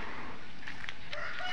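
Geese at a wildlife rehabilitation center in Laguna give a few short honks over a loud, constant background noise, the calls brief and somewhat distant.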